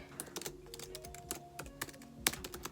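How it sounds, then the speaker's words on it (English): Quick typing on a computer keyboard, close up: irregular bursts of light key clicks with short pauses between them, no voices. "I'm going to just type that out really quick."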